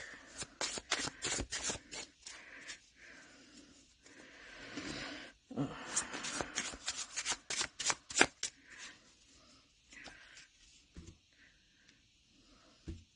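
A deck of healing cards shuffled by hand, with quick rapid riffles and flicks repeating in bursts, close and fairly quiet, alone with no talk.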